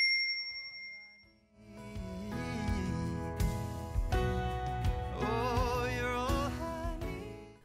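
A bright notification bell dings at the start, followed by an upbeat musical jingle with layered tones filling the rest.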